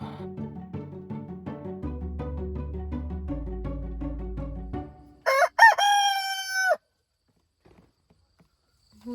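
A rooster lets out one loud, close crow after a stretch of rhythmic background sounds, followed by near silence.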